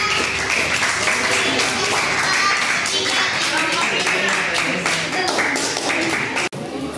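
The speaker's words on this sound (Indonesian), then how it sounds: "tepuk tangan untuk kelompok 3" A classroom of students claps for a group of classmates, a lively, fairly loud burst of many hands with rhythmic accents, running steadily until it cuts off abruptly near the end.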